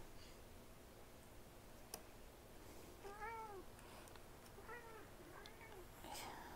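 Two house cats meow a few times, each call short and rising then falling, against a quiet indoor room with light background hiss and a faint tick early on.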